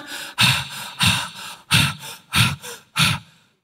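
A voice imitates heavy panting, six loud, breathy gasps at a steady rhythm, each a rough exhale followed by a short pause, close to the microphone with no other speech.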